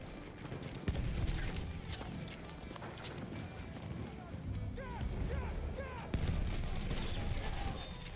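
Machine gun fire rattles through a Battlefield 1 battle, with bursts of shots over dense background combat noise and explosions, while voices call out intermittently.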